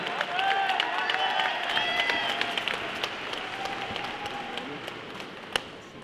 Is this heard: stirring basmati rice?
no